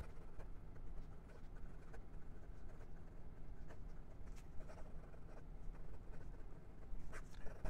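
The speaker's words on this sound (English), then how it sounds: "And for some quick writing." Penbbs 546 fountain pen from the 2022 Year of the Tiger edition writing quickly on paper, a soft continuous scratching with small irregular strokes, close and fairly quiet, with no talk.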